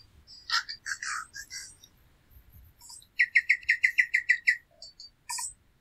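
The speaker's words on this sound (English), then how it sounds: "What you're listening to are the birds of New Zealand. Specifically the tui, native and unique to the country." Tui birds in New Zealand sing a run of bright, bubbling chirps and whistles, then a quick, even series of about a dozen rising notes, ending in a short burst. Close and clear, with no talk.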